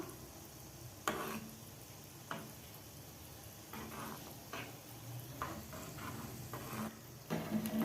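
Gulab jamun frying in hot oil, with a soft continuous sizzle and occasional stirring clinks as they are turned, quiet and close with no talk.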